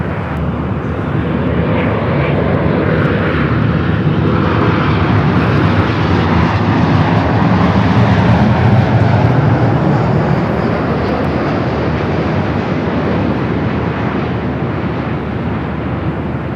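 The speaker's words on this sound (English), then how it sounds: "The flight coming in from Osaka, Japan." A jet airliner arriving at Los Angeles International Airport from Osaka, Japan roars loudly and steadily for the whole stretch, its broad engine rumble swelling slightly toward the middle, with no voices.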